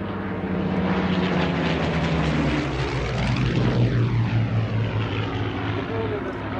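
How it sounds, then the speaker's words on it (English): A Hawker Hurricane fighter's Mark III Merlin piston engine, 1185 horsepower, roars loudly and steadily as the plane passes close by, its pitch sweeping downward as it goes. "A Mark III Merlin engine developing 1185 horsepower powers the aircraft."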